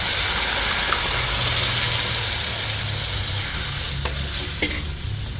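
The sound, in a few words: dal poured into sizzling tempering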